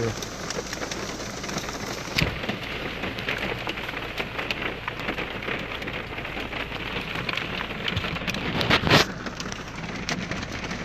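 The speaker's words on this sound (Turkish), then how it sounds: "buz yağıyor." Dense, steady drumming of walnut-sized hail on a car roof in Akçıköy, with a few sharper, louder impacts standing out from the constant clatter.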